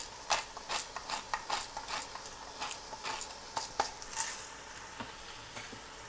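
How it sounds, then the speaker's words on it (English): Celery and carrots sauté in a pot for lentil and sausage soup, giving soft crackling sizzle with repeated scraping stirs and clicks at a steady, close rhythm and no talking. "And we'll let that saute a little bit."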